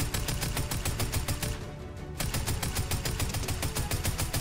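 Rapid gunfire from the video game Fortnite rattles on steadily for several seconds in an even, fast rhythm, with a brief dip in the middle. It is loud and close, and no one talks over it.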